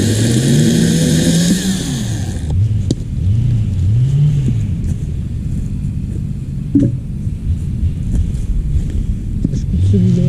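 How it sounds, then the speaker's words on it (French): A piece of wood being cut while bucking logs: a loud, engine-like whine revs for about two and a half seconds, then falls to a lower, steadier rumble, with a voice talking over it throughout. "Je vais couper vite fait le bout de bois"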